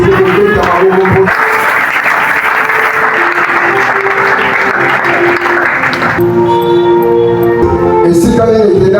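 Church congregation applauding a sermon, loud steady clapping from a large crowd sustained over several seconds, with a voice speaking and music tones over it.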